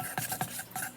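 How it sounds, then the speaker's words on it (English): Homemade slime made with contact solution is stirred in short, close, squelching and scraping strokes, several quick rubs in about a second, with no voices. "now we just gotta stir it"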